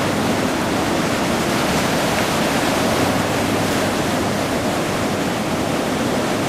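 Cold November ocean surf rolls in on the coast between Monterey and Carmel with surfers out. A broad, unbroken roar of waves and wash fills the scene with no voices.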